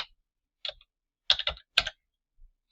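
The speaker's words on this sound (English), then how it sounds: "I'm going to type in my credit memo" Computer keyboard typing while entering an accounts payable credit memo in accounting software, a few sparse clusters of close, crisp key clicks separated by silence.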